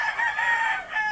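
Chickens and a rooster crowing and clucking among a backyard flock, a steady close cackle over about a second with no talk.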